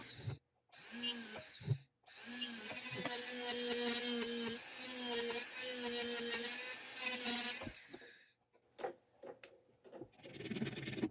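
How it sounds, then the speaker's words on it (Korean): A small rotary drill bores a hole into carving wax for a cabochon bezel setting, giving a steady high whine that runs for several seconds between brief stops, then short intermittent bursts nearby. "보석이 들어가는 자리를 다듬을 수 있을 만큼 남기고 드릴로 뚫습니다."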